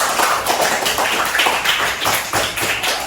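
A classroom of young pupils claps their hands together in a loud, close burst of quick, slightly uneven claps with no talking over it.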